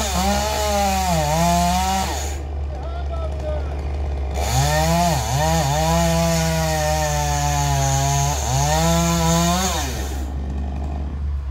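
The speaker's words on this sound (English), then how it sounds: "I'm gonna get this last top cut down for them" Chainsaw cutting down the top of a hazard elm tree, engine revving in long loud bursts with pitch dips as the chain bites, with brief idle gaps between cuts.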